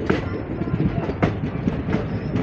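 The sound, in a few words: Saptagiri Express train with WAP4 locomotive running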